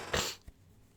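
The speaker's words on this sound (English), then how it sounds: "I am going to sneeze." A single sharp sneeze bursts out close to the microphone, followed by a brief faint exhale, then quiet.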